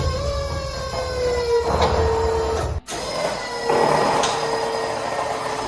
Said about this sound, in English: So here we've got the rear steering pump.